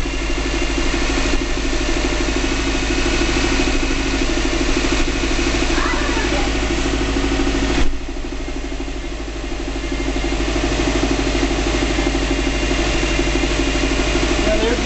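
A 2005 Subaru Legacy GT, freshly rebuilt at home, idles on its first start with a steady, even engine drone, while people talk nearby over the running motor.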